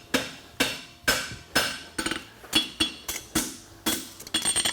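Blacksmith hammering a French hind horseshoe on an anvil, a steady series of about a dozen loud, ringing metallic strikes, close and alone, quickening into faster blows at the end.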